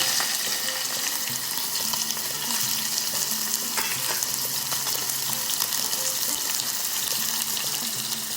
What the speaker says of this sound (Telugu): ఆయిల్ వేడెక్కిందండి రొయ్యలు వేస్తున్నాను